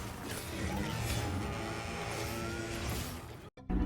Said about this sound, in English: this is Arkveld's roar